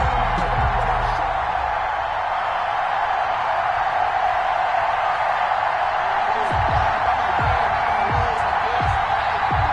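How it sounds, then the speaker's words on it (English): A stadium crowd in the video game Madden NFL, Rams against Seahawks, roars in a steady, dense wash of cheering, with a voice talking over it late on. "This crowd is ready"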